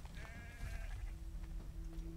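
A sheep in the video game Assassin's Creed III gives a short, wavering bleat, followed by a steady low tone and ambient game noise, with no talk during the sound.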